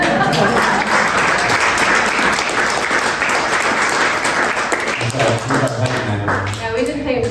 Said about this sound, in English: You should applaud that.